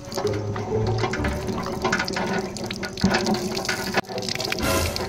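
Water pouring from a tap in a sink, a steady loud rushing and splashing stream that continues for several seconds with a brief dip partway through.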